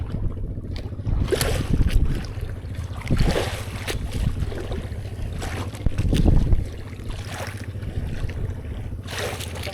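A small bangka fishing boat moves across the water with sloshing splashes and a low rumble, wind buffeting the microphone, with occasional louder slaps of water against the hull.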